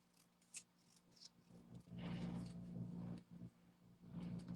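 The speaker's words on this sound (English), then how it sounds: "I'm going to do a little fussy cutting" Scissors snip paper card during fussy cutting around a stamped design, producing a few quiet, close crisp cuts in short uneven bursts with pauses between them.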